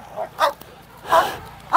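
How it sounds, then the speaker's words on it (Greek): Greek shepherd dogs bark a few times at a breeders' gathering in Kozani, two or three short moderately loud barks with faint background noise. "Ορίστε, βλέπετε δείγματα ελληνικού ποιμηνικού."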